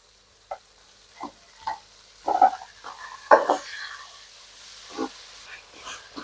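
Onions fried golden with tomatoes for a fish curry gravy, stirred in a pan: quiet, sparse scrapes and soft sizzling bursts at irregular intervals, with no talking.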